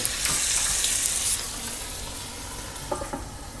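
Dragon chicken with sauce and added water cooks in a pan under a closed lid, giving a steady close sizzle and bubbling hiss that fades slightly, with a few soft clinks near the end.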